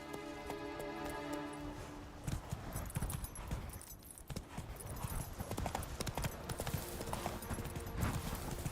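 Horse hooves clip-clop steadily in Witcher 3, close and continuous over a busy game soundscape with music, with a brief whinny possible and someone speaking faintly at times.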